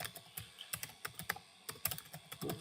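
A name is typed on a computer keyboard in quick, irregular bursts of crisp key clicks, close and fairly quiet, with short pauses between strokes.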